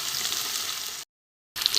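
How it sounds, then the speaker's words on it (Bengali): Potatoes fry in hot oil with a steady bright sizzle, broken by a half-second silent gap before the crackling resumes. "আলুটা আমি একটুখানি ভেজে নেবো ভালো করে।"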